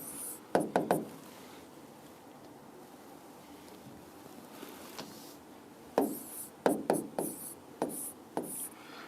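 A teacher writes a chemistry question on a board in a classroom, giving a series of sharp, close taps and scratchy strokes in quick bursts, with a quiet pause between the first cluster and a later rapid run of marks.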